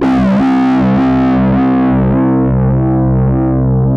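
An Endorphin.es Ghost effects pedal colours a sustained, heavily processed synth-like tone with sawtooth modulation, giving repeated sharp sweeps that jump and then decay in a steady rhythm, loud and alone.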